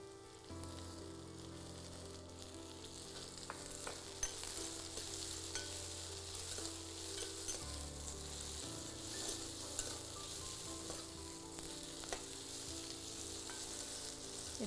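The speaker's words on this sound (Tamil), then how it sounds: "எண்ணெயில் வந்து இந்த பூண்டு வதக்கி அதை அரைக்கிறப்ப இன்னும் கொஞ்சம் அரோமாக நல்லாயிருக்கும்" Garlic cloves sautéing in oil in a pan while a methi matar paneer gravy is prepared, with a steady, fairly close sizzle and frying crackle throughout and no talking.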